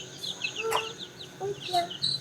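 Rhode Island Red chickens cluck in a small backyard flock, a few brief close calls over low background noise, with a person speaking faintly nearby.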